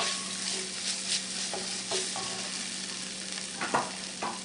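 Finely chopped celery and other vegetables sizzle in a pot while braising, a constant crackling fry with a few soft stirring scrapes, close and steady with no talking.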